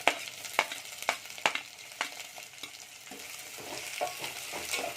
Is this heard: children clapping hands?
no